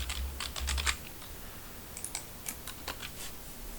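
Quick bursts of key clicks on a computer keyboard as a command is typed at a Windows prompt, close and fairly quiet, in irregular clusters with short pauses between.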